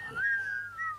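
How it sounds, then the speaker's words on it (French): A person whistles inside a theatre, a single clear rising then steady tone lasting about a second, close and alone. "On ne siffle pas dans un théâtre."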